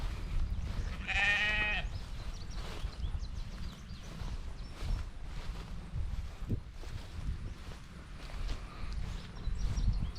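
A single sheep bleats briefly near the start over a steady outdoor rumble and shuffling, then only background noise continues.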